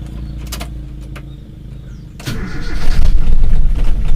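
A cold carburetor Toyota car engine turns over and fires up, settling into a loud, rough, shaking idle that grows steadily louder and heavier after catching.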